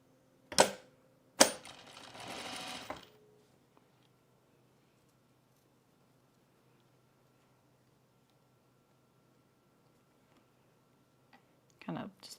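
A home sewing machine topstitching a bralette: a short tap, then a rapid mechanical stitching run of about two seconds, then quiet before another brief burst of stitching at the end.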